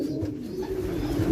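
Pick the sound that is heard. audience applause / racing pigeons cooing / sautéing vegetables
racing pigeons cooing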